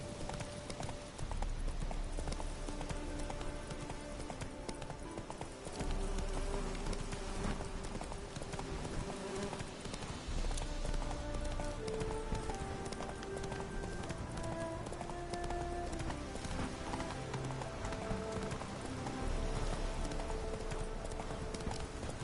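Geralt's horse Roach clatters along in Witcher 3, loud continuous clip-clopping hoofbeats at a brisk pace over a dense game soundscape with music.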